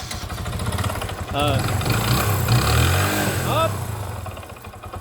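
A Kawasaki Rouser 135 motorcycle engine runs after an overhaul that included the connecting rod, idling then swelling in a short rev before settling, heard up close with people talking over it.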